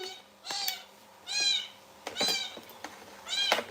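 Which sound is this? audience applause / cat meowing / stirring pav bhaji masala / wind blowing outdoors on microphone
cat meowing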